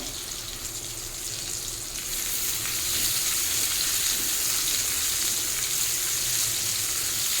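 Salted pointed gourd frying in oil over a medium-low flame gives a steady, close sizzle that grows a little louder partway through and then holds even, with no voices.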